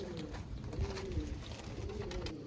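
Pigeons coo in a low, continuous rolling chorus, several birds overlapping close by, with occasional soft thumps and rustles beneath and no speech.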